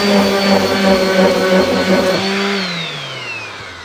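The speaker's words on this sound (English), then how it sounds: "the sander just doesn't like to get in there" Loud, steady whine of an electric sander working on a tumbler, close and continuous with a strong tonal hum that slides lower as the motor winds down near the end; no talking.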